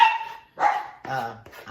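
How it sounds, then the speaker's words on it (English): Several dogs bark in short loud bursts in a home kitchen where homemade pepper jelly is being made in a pot over 40 years old, the barks separated by brief pauses. "sorry about the dogs, y'all."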